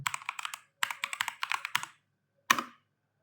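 Fingers tap on a computer keyboard in quick clustered bursts of crisp clicks, close up, pausing between groups, ending with a single louder keystroke and silence.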